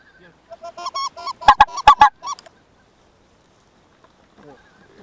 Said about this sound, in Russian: Всё, тихо, гуси уже близко.